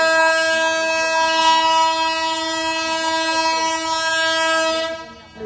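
Siddheshwar Express arriving at Mohol railway station, a loud, sustained multi-tone train horn held for about five seconds close by, with faint rolling rail noise beneath before it cuts off.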